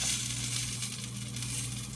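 Sausage fries in a pan with a steady sizzle and crackle that holds close and even throughout, with no voices.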